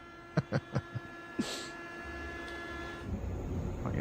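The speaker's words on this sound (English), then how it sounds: "Saluting the train." A train moves through an old station, heard from a distance as a low rumble and steady hum, preceded by a few sharp rhythmic clacks and a brief hiss, with no voices.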